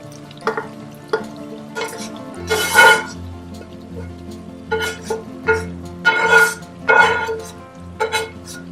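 Fried okra and onion are stirred into mutton curry in a pot, with repeated scraping and sizzling bursts of a spoon against the pan at an irregular rhythm, close up.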